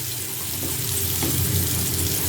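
Food dropped into hot mustard oil and starting to fry, a close, bright hissing sizzle that swells slightly louder partway through and keeps going steadily to the end.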